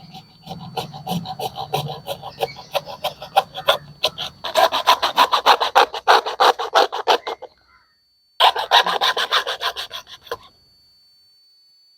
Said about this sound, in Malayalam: ഈ ഒരു PVC പൈപ്പ് നമുക്ക് എന്ത് ചെയ്യണം, ചരിച്ചൊന്ന് കട്ട് ചെയ്ത് കൊടുക്കണം.